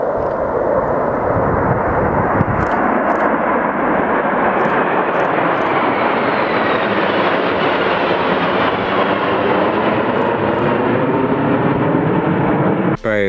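A JAS 39 Gripen fighter jet in flight gives a loud, continuous roar whose pitch slowly sweeps and shifts as it passes, with no talk over it.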